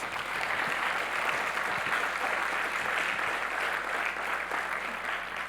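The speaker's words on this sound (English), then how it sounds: "So let's give a huge round of applause for our innovators." Applause for innovators at a San Mateo County economic awards event, a sustained wash of clapping from a sizable audience at a steady level.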